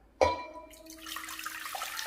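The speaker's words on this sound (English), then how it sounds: "add the water." Water is poured into a pot while cooking rice, starting with a sharp clunk and then a soft, steady trickling splash, quiet and close.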